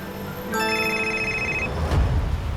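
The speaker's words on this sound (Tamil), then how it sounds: "இந்த நேரத்தில் ஃபோன் பண்ணியிருக்கானுங்க." A mobile phone rings with a steady electronic ringtone, a clear tonal pattern that starts abruptly and continues over a low background hum and rumble, with no one speaking.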